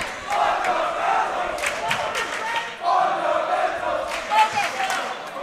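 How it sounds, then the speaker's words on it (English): Basketball crowd at a varsity high school game, Benedictine at St. Christopher's, chanting in a loud, rhythmic, repeated group chant that swells in two waves, with a sustained crowd roar around it. "Saints crowd chanting fundamentals."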